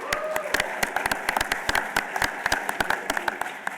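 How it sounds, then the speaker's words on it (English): Applause from an audience at a pinball festival seminar, scattered individual claps close by, some louder than others, a small crowd clapping steadily for a few seconds. "So a round of applause for Steve."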